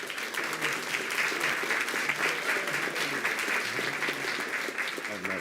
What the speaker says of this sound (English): a round of applause for students from Mario Ibarra Elementary and art teacher Cynthia Duran